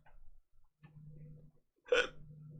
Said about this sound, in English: Sorry, hiccup.